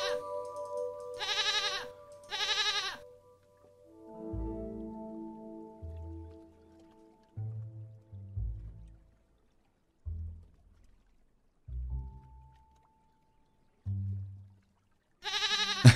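A goat bleats several times in the video game Rusty Lake Paradise, short wavering cries alone against quiet, with brief pouring or splashing bursts at the start and end.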